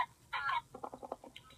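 A person mimics a chicken with a short, sharp squawk followed by a quick run of bursty clucks, close and fairly loud against a quiet room.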